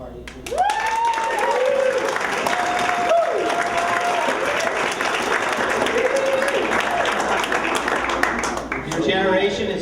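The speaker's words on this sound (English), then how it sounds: "I would also just like to ask for a round of applause for my mother" Guests at a silver anniversary party give a steady, loud round of applause for the hostess, with crowd murmur and voices running through the clapping.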